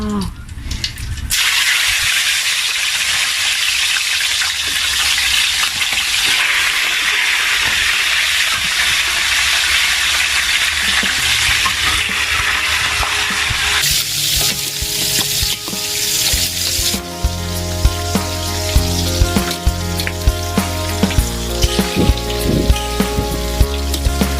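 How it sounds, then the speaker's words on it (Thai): Catfish pieces frying in a hot salted pan for a spicy Isan-style stir-fry, a loud continuous sizzle and hiss that shifts partway through to crackling oil with frequent sharp pops, close up with no talking. "แล้วก็ใส่ปลาดุกของเราลงไปทอดเลยค่ะ"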